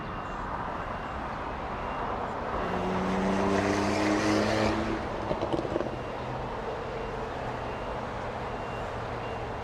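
A British Airways Boeing 777-300ER airliner taxiing at Los Angeles International Airport, heard as a distant jet engine drone that swells toward the middle and then eases back to a steady hum.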